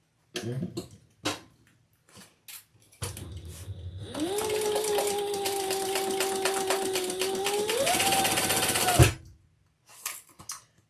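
A sewing machine runs steadily for about six seconds stitching a handbag seam, a continuous whirring hum with a sustained tone, framed by short handling clicks and rustles before and after.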